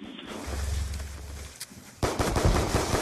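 Rapid automatic gunfire in a first-person shooter match, a dense burst of shots rattling close and loud after a low engine-like hum and a single sharp crack.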